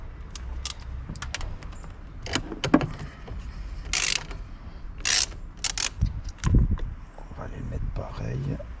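A part is unscrewed in a car engine bay while an anti-rodent box is fitted, giving scattered clicks, metallic rattles and short ratcheting bursts close up, with someone talking between them.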